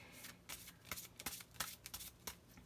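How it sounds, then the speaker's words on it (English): Empowerment cards being shuffled by hand, a quiet, close run of riffling slaps and brushing flicks in uneven bursts, with no talk. "I'm just gonna shuffle these guys and see what the message is for us"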